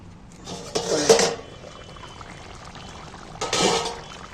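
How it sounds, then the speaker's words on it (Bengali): A plate set down over a cooking pot of potatoes simmering in a little water, giving two short clattering bursts of ceramic against metal a few seconds apart, close and moderately loud over a faint background hiss. "একটু এই থালাটা চাপা দিয়ে দিচ্ছি"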